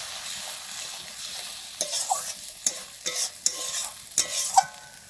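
Egg curry masala with a splash of water is stirred and fried in a pan; a low sizzle runs under a series of sharp, close scraping strokes of the spatula, coming in bursts of several stirs.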